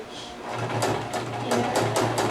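A close, steady sewing machine hum with a rhythmic clatter runs throughout as the edges of a bow tie are stitched together, with periodic sharper ticks punctuating the motor drone.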